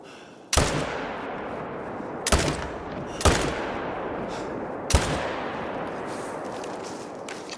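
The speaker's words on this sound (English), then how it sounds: "Got some plains bison over here. We'll pull out our rifle." Four loud rifle shots ring out at uneven intervals, each a sharp crack with a long rolling echo, fired at plains bison during a hunt in the Yukon Valley in theHunter: Call of the Wild.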